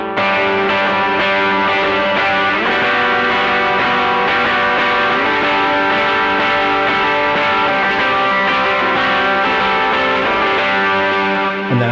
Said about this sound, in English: modulated digital delay and it brings in this full tone distortion part for the chorus part